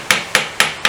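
Four sharp metallic hammer taps land at an even rhythm on a rusted part of a Greeves Anglian motorcycle, each strike ringing briefly and close up.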